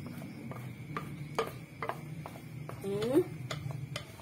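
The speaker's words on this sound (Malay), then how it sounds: "Ni kita kacau dulu." A utensil stirring kuih peneram batter in a pot, with light ticking taps and soft scrapes close by, while a voice briefly murmurs in the background.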